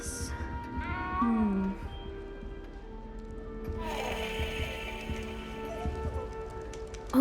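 A cat meows in the Hogwarts Legacy video game. Early on comes a drawn-out, falling meow, then a lower wail, followed by ambient game sounds and faint background voices.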